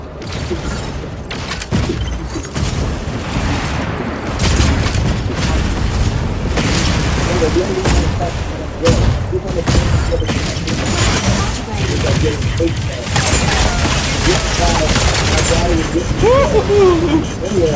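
Constant booming weapon fire and explosions roar through a mech combat video game, a dense unbroken barrage with mechanical clatter, and a voice talks intermittently over it.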